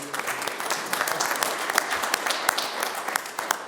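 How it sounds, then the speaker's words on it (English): Board members and attendees at a transit board of directors meeting giving a round of applause, a dense, steady spread of many hands clapping in a room with individual claps popping out, fairly close, no talk. "a big round of applause for you"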